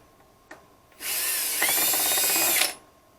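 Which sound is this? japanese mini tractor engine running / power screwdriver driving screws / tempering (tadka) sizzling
power screwdriver driving screws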